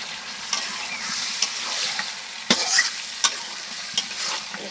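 Food is stir-fried in a pan over a gas stove, giving a continuous bright sizzle with intermittent clanks and scrapes of the spatula against the pan. No voices are heard.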